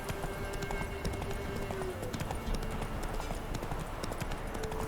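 Roach, the horse in the video game The Witcher 3, gallops with rapid, steady clip-clop hoofbeats that run throughout against a continuous outdoor game ambience.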